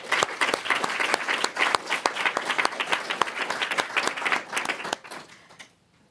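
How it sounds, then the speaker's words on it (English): Audience applause at a poetry reading series night, dense steady clapping from a room full of listeners that holds strong for about five seconds, then thins out and fades quickly to near silence. "Can we give Kevin another round of applause?"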